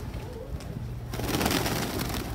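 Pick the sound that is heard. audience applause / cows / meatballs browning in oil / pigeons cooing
pigeons cooing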